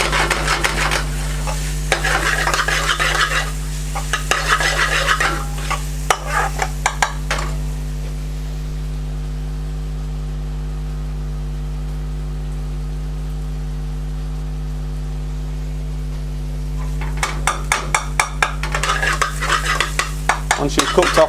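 Garlic and ginger paste sizzling and frying in a pan, with busy stirring and scraping for several seconds, a quieter stretch of low hum, then stirring and clatter resuming near the end.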